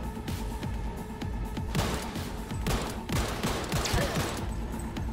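Enemy gunfire during a Cyberpunk 2077 firefight, rapid overlapping shots and bursts cracking continuously for five seconds, dense and fairly loud with no talk over it.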